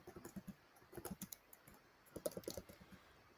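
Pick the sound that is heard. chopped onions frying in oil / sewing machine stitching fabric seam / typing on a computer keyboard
typing on a computer keyboard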